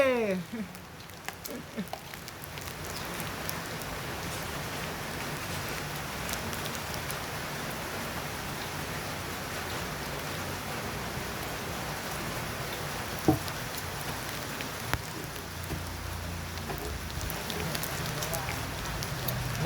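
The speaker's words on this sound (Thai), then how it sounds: "ฝนตกนะครับ ผมตากฝนนะเนี่ย โทรศัพท์ก็ตากฝนอยู่" Rain falls outdoors onto a phone and the surfaces around it, a steady, even hiss of drops that runs unbroken throughout with no voices.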